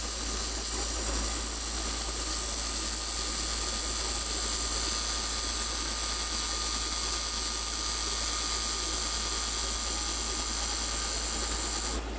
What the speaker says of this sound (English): I'm going to take that little mini skew and I'm going to put my little concave angle in here.